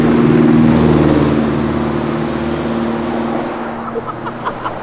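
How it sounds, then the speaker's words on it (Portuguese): A blue Porsche engine roars loudly and close by on a city avenue, a strong steady rumble that slowly fades as the car passes, with brief clicks and pops at the end. "Olha a Porsche azul!"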